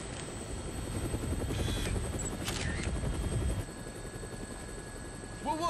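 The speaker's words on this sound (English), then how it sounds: "Looks like taking a helicopter was the way to go." A video game helicopter from Dead Rising, its rotor thumping and whirring steadily at close range, briefly joined by a higher mechanical whine, then fading slightly near the end.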